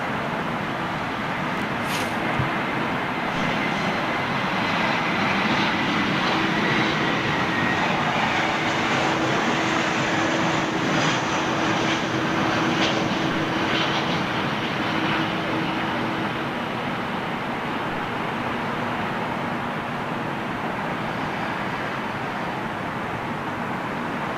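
A jet airliner at London Heathrow gives off a long, continuous engine roar that swells slightly in the middle, with faint talk in the background.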